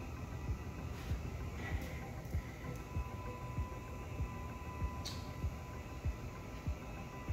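A GermAwayUV 320-watt UV sanitation conveyor running at its fastest setting, about 40 feet per minute, gives a faint, steady low mechanical hum with a few soft ticks throughout.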